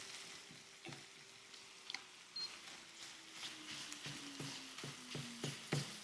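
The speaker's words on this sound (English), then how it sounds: "just keep using the back of your spoon and just keep working it" Sausage meat being pressed and broken up with the back of a spoon in a frying pan for pasta, giving a steady sizzle with repeated soft scraping taps and a faint tonal hum underneath.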